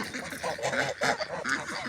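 A flock of domestic geese honks on a small farm, repeated nasal calls overlapping at a fairly quiet level, a few clear honks standing out near the listener.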